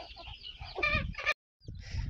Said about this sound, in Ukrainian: Ось бентамочка зі своїми курчатками.